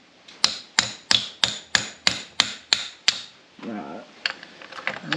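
About nine sharp metallic hammer strikes in a steady rhythm drive a piston pin out during a Yamaha Big Bear 350 ATV engine rebuild, close and distinct, followed by brief scraping and lighter knocks.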